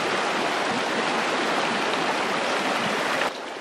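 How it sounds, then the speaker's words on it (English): A tiny, very shallow river flows steadily close by, with a continuous broadband rush and babble of water running alone. "The river's pretty tiny, really tiny, really shallow."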